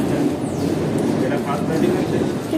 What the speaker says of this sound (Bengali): ট্রেন চলে গেল, ট্রেন চলে গেল।